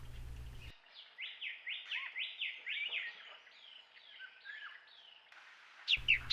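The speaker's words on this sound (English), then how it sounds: "Bronzed drongo." A bronzed drongo at Rocky Pool calls in a quick series of repeated, bright, slurred whistled notes, clear and fairly close, followed by a few scattered softer calls with faint background noise.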